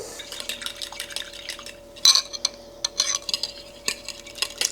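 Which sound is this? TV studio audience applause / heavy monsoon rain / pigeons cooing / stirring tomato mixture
stirring tomato mixture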